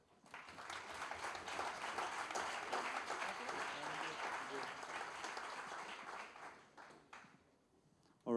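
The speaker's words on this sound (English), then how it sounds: "Let's all give a warm applause to Zero." An evening design-fair audience gives a warm round of applause for the product team Zero, a dense, steady clapping that swells and then fades out after several seconds.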